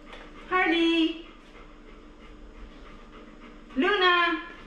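A young puppy pants and whimpers while waiting for a treat, in two short, close bursts of quick breathy panting with a faint whine, separated by a quiet pause.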